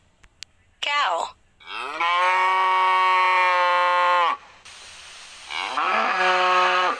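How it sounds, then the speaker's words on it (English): A cow lowing in three loud, drawn-out moos, the middle one longest, with short pauses between them and a few faint clicks at the start. "Cow."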